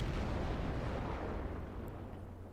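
Dense, rumbling barrage of naval gunfire from warships firing high explosive shells in World of Warships, a continuous booming roar from distant salvos that fades slightly toward the end, with no voices.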